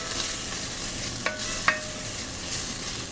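Minced garlic sizzling in a soup pot, a steady moderate frying hiss with two short metallic clinks of a utensil against the pot.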